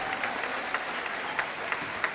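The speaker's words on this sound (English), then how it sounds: "Absolute clap for that kid" Crowd applause in a high school basketball gym on senior night as a player leaves the game, a sustained steady patter of many hands with a few sharper claps standing out, heard from a distance.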